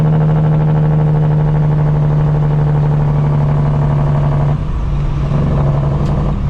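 Custom Peterbilt truck using its Jake brake, a loud, close, sustained droning engine rattle with a strong steady low tone that eases slightly near the end.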